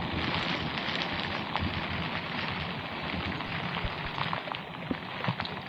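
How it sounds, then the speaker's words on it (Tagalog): Heavy rain pours steadily during a motorcycle ride, a dense, loud roar of rain mixed with wind rush and road noise throughout. "At patuloy pa rin ang pagbuhos ng napakalakas ng ulan."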